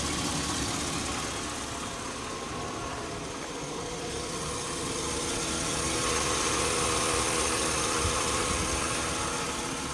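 A 2002 Chevy Avalanche 1500 with a 5.3L V8 idling with an engine noise fault, a steady rough mechanical rumble with a faint ticking texture, heard up close and continuous throughout, with no talking.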